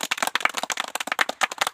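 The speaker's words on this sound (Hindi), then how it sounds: "जोरदार तालियां" Short burst of brisk, close clapping from a small audience at an amateur quiz-show skit, rapid irregular claps filling the moment with no talk.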